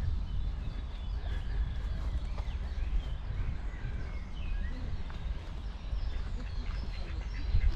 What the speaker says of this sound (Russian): Вот какие селезни.